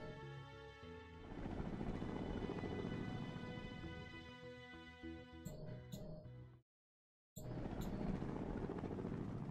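Attacking helicopters in the strategy game SuperPower 2, a steady thrumming rotor drone layered with tonal game music that cuts out briefly into silence and then resumes.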